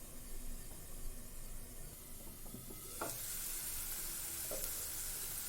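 Tomatoes cook under a lid in a pan for tomato coriander rice, giving a steady sizzling hiss that swells louder partway through, with a few soft clinks of the lid or utensil.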